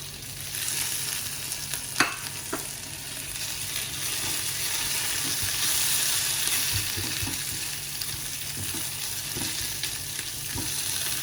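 Three very hot green chillies and curry leaves sizzling in hot oil in a pan, a steady close crackle with occasional pops and the scrape of stirring, loud and continuous with no voices.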